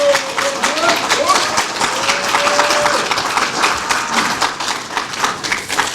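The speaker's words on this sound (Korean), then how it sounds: "여러분 우리 모신 분들 다 같이 박수 한번 치십시다" Rally audience applauding together, a loud sustained wash of clapping from a large crowd at a civic gathering in Gwangju, steady throughout with a faint whistle-like tone early on.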